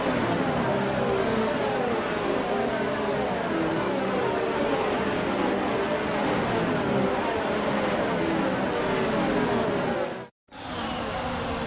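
Formula 1 cars from the F1 22 racing game roll around the track on the formation lap, a steady dense layered engine drone throughout that cuts out briefly near the end.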